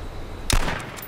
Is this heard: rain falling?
no